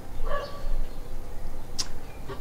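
A dog barking in the Minetest sandbox game, a few yips and short barks spread out over a steady ambient game background.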